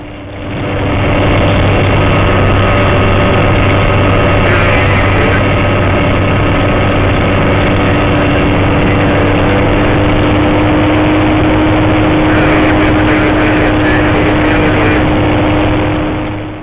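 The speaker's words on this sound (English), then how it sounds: "This 650 kV motor is quick." Electric motor of an FMS 1400mm P-40 RC model airplane in flight, heard from the cockpit as a loud, steady engine-like drone with constant hum throughout, no talk.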